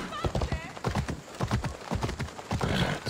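Rhythmic hoofbeats of a horse clip-clopping at a steady pace in the video game Assassin's Creed Odyssey, with a game-like ambience and a brief whinny early on.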